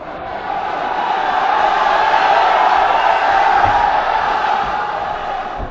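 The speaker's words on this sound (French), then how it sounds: "Le public a également applaudi les uns après les autres." A crowd at a boxing match cheers and roars in a broad, sustained wash of voices that swells and then eases slightly, with no single voice standing out.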